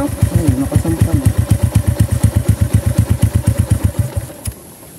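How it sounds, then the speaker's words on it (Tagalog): Motorcycle engine near at hand in Barangay Tumiis, Villa Norte, Alabat, Quezon, idling with a loud rhythmic chugging pulse, then cutting off just before the end. "May motor doon."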